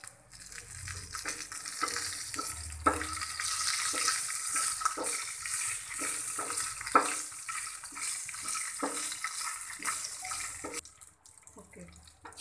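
Green chillies and cumin seeds frying in hot oil for a water amaranth chutney: a steady loud hissing sizzle with crackles and occasional stirring scrapes, close up, easing off at the end.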